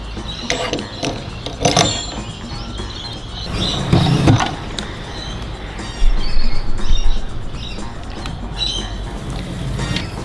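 Sliding rail of a Makita 36V cordless drop saw, the DLS714, pulled in and out by hand, giving a run of close, loud mechanical rattles, clicks and gliding rasps with brief pauses between strokes.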